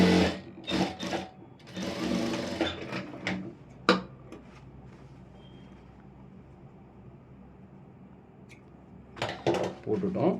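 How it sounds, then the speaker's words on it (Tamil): Sewing machine stitching the side seam of an Aari work blouse, several short bursts of rapid whirring with pauses and small clicks between, loudest near the start and end. "அந்த மார்க்குக்கு மார்க் கரெக்டாக வச்சுட்டு தையல் போட்டுடலாம்"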